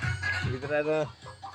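A rooster, just caught and carried indoors, gives a short run of clucks and a drawn-out squawking call lasting about a second, close and fairly loud, with a voice speaking around it.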